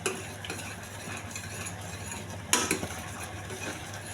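Millet and moong dal pongal being stirred in a pot, with a soft steady scraping and a couple of sharper clinks of the spoon against the metal, faint and close, with no talk.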